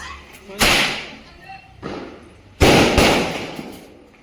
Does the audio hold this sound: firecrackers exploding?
yes